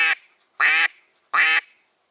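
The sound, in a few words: duck quacks imitated with a duck call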